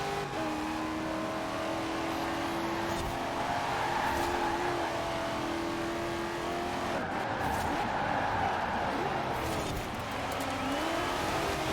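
A van on rally tires races a dirt circuit in Forza Horizon 4, its engine droning steadily while tires slide and skid through continuous racing noise.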